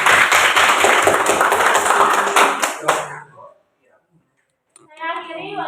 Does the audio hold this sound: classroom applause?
yes